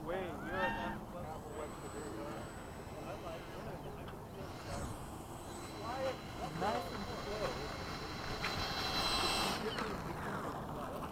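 A Duke Maiden radio-controlled model airplane buzzes overhead at a field, its electric motor rising and falling with throttle changes, under ongoing talk from nearby people.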